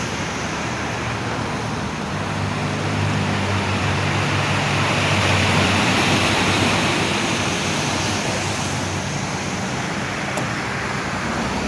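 Loud, continuous roar of strong sea waves crashing at Vigan, a dense steady wash of water noise with no voices, swelling slightly in the middle.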